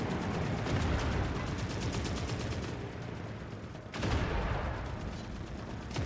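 Tanks fighting each other in The Forever Winter, heard as a dense, loud stream of rapid gunfire and heavy booming. The barrage dips briefly, then surges again with a sharp blast.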